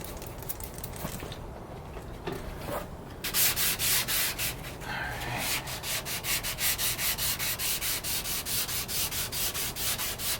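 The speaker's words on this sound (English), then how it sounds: "Time to get a little wet sand action." A 1967 Dodge Coronet panel is wet sanded by hand over primer, starting with irregular rubbing, then settling into steady, loud back-and-forth strokes in a rapid rhythm.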